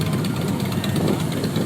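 Motorcycle engines idle together at a Trident MC biker meetup in Barbados, a steady close rumbling chug with a slightly knocking pulse and no talk.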